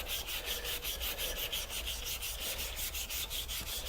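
Aluminum is sanded by hand in quick, regular back-and-forth strokes, a rhythmic gritty rasp repeating steadily, close and alone with no voices.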